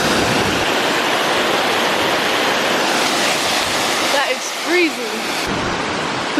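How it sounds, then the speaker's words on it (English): Small waterfalls on a nature hike rush and roar in a dense, steady wash of water that fills the whole scene at close range, with a brief faint voice near the end. "There's just mini waterfalls everywhere"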